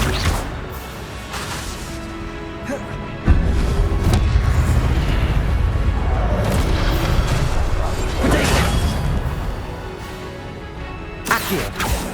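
Accio and Incendio spells cast in Hogwarts Legacy, a series of booming impacts, whooshes and crackling bursts over a low rumble, with a voice speaking over the effects.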